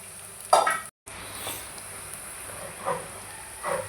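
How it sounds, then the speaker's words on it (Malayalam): Shallots frying in a pan with green chilli and garlic: a soft steady sizzle runs throughout, with a few clinks of a spoon against the pan. No voices are heard. "നമുക്ക് ചുവന്നുള്ളി മൂപ്പിച്ചെടുക്കാം"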